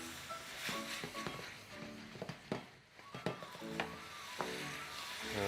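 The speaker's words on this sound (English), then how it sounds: "It's all about the sizzling." Steady sizzling of vegetables frying in a hot pan, close and crackling, with occasional clinks and scrapes of stirring.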